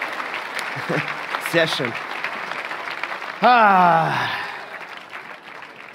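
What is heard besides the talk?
audience applause for schlager singers in TV arena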